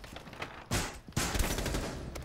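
Video game gunfire as a player hip-fires out a window, with dense loud bursts of shots and a short gap between two volleys.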